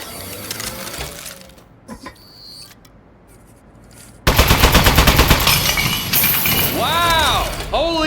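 Turret gunfire in the video game Aperture Desk Job: quieter mechanical clicks and whirs give way to a sudden, loud rapid-fire burst of shots, followed by chirping electronic sounds as the firing continues.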